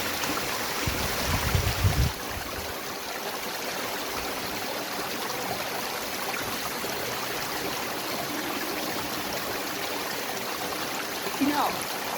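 A waterfall and stream at a hidden hiking spot give a steady, broad rushing wash of flowing water, constant and moderately loud, with a brief louder disturbance near the start.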